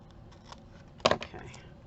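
A short, crisp snip as scissors cut through card, a quick double crunch near the microphone amid faint rustling, with soft speech around it.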